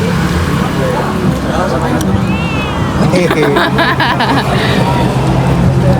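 A cat gives a short meow amid a noisy street scene with passing traffic and people talking nearby; the cry is brief and partly masked by the surrounding din.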